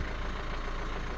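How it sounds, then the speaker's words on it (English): A Nissan Qashqai J11 engine idles steadily after a timing belt replacement, a close, even low rumble with a regular fine pulse throughout and no voices. "The engine sound is like should be."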